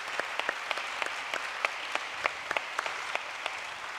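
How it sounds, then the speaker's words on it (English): Audience applause after a conference talk: scattered, moderately quiet clapping from a modest crowd, with crisp individual claps standing out over a steady patter throughout. "Please join me for a big applause to our dear friend."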